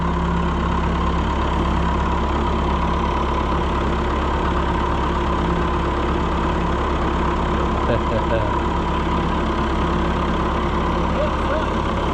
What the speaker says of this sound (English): 175 with the F2 diesel motor.